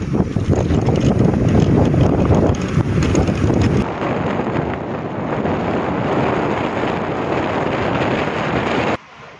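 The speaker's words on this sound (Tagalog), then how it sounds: "Malakas po ang hangin sa Taiwan at masama ang panahon" Strong wind in Taiwan during bad weather roars and buffets continuously against the microphone, loud and steady, easing slightly partway through before cutting off at the end.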